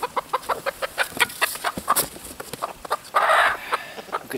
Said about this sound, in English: This is a Silkie.